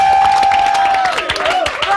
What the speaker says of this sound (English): Let's have a big round of applause for Rachel.